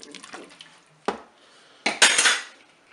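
A spoon stirs cornstarch into sauce in a Cookeo multicooker pot, giving a few sharp metallic clinks and scrapes, then a brief burst of wet stirring, close up.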